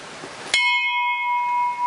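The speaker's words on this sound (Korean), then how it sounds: "종소리가 온 산에 울려 퍼집니다." A single bell is struck once at a remote mountain home with no running water or electricity. The sharp clang leaves a clear, steady ring that lingers and slowly fades, loud and alone with no voices.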